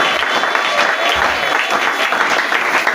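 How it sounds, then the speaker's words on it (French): A congregation at a French-language praise and worship church service cheers and applauds, a dense, steady wash of clapping that fills the room loudly and without a break. "Est-ce qu'on peut acclamer oralement la parole de Dieu?"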